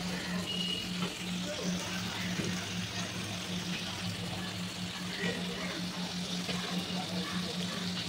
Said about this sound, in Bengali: এবার গোটা গোটা লোটে মাছগুলো ওই মশলা কষানোর ওপর দিয়ে দিলাম, দিয়ে কিছুক্ষণ ফুটিয়ে নিলাম এইভাবে।